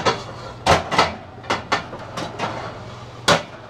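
Metal cookware clanks and thuds as someone rummages for a cooking pan near a woodgas biomass stove, with several sharp, close knocks at irregular intervals over a low steady hum.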